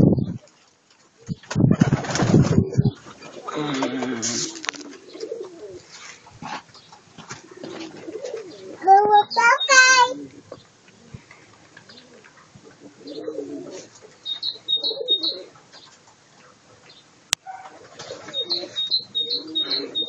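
Pigeons in a coop coo and flutter around a child being brought in to feed them, with scattered chirps and wing flaps under intermittent family chatter and a brief sharp click.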